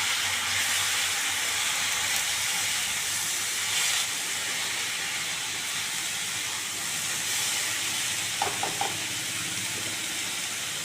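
Chopped bottle gourd cooking in a hot pan gives a steady, close hiss and sizzle that holds for the whole stretch, with a few faint clinks near the end.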